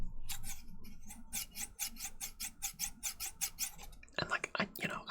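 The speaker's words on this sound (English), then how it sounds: "Oh, I bought scissors." Snipping from a newly bought pair of scissors used as an ASMR trigger: a steady run of about twenty crisp, close cuts in an even rhythm, followed by brief louder rustling.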